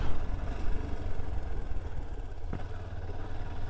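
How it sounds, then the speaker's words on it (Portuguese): A carbureted Falcon motorcycle with a Dore exhaust warms up at idle, giving a steady, loud, low engine rumble throughout with a slight knock near the end. "Como eu meti o escape Dory, rapaz, na hora que puxa faz só um regaço até esquentar a moto."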